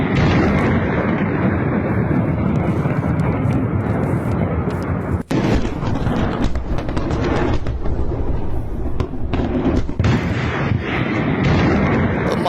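Air strike on the Syrian coast, heard as a loud, continuous roar of blasts and rumbling with sharp cracks, dense and unbroken throughout.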